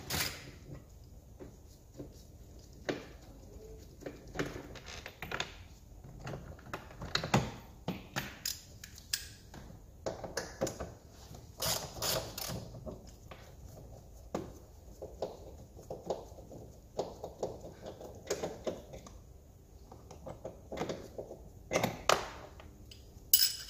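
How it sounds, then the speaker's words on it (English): Bolts are worked loose from the door card of an Alfa Romeo MiTo. Small taps, clicks and creaks come in irregular bursts with quiet gaps between them, heard close up. "now I'm going to remove the final two bolts, which is one on the bottom of the door pull and the one behind the door handle itself."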